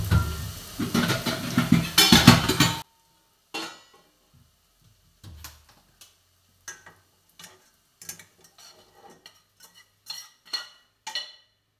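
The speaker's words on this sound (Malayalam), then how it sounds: "അപ്പൊ നമുക്കിതൊന്ന് മാറ്റിയിട്ട് തേങ്ങ വറുത്തെടുക്കാം." Grated coconut roasting in a pan for a Kerala bitter gourd theeyal: after a loud sizzling stretch at the start, a spoon scrapes and taps against the pan in sparse, irregular clicks.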